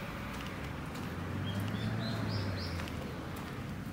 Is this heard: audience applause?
no